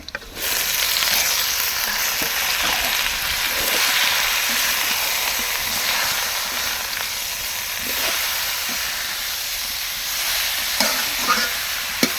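Leafy greens fry in hot mustard oil with fried chilli and onion, a steady, loud sizzling hiss with scattered small crackles and pops throughout, no voices.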